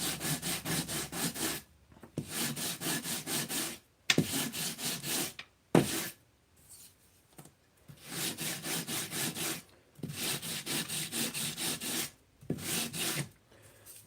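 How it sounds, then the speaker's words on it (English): Sanding by hand over hardened glue squeeze-out along a carbon spar on a foam wing, a close, steady rasping scrub in repeated strokes of a second or two, separated by short pauses. "it's going to be hard to sand too much because you're sanding against that carbon"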